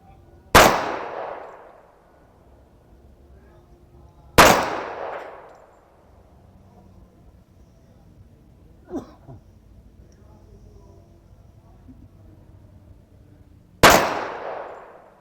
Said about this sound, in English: we'll go back out and we'll shoot 5 or 6 more rounds